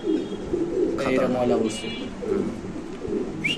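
Lahori pigeons coo at a bird sale with white birds on show, low rolling coos repeating close by amid a busy background, with someone talking throughout.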